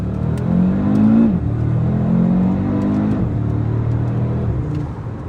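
A Cupra Formentor VZ5 five-cylinder engine with ABT tuning rumbling and revving close up, pitch climbing and dropping with gear changes, a throaty drone throughout.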